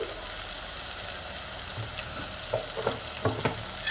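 Egg curry with turmeric and salt sizzles in a pan as it is mixed, a steady frying hiss with several soft stirring knocks toward the end.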